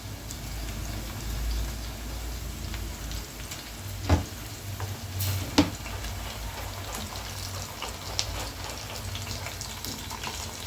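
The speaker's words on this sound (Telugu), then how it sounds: "ఒక 3 స్పూన్లు అల్లం వెల్లుల్లి పేస్ట్ వేసుకున్నామండి." Ginger garlic paste, about three spoons, frying in a pan for chicken biryani: a steady close sizzle throughout, with a few sharp pops and clinks breaking through.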